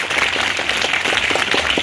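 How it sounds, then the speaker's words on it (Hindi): Brief burst of audience applause for a student at a convent school event, many hands clapping at once in a dense, lively patter that fills the whole moment. "एक बार इनके लिए ताली लगा दें आप लोग"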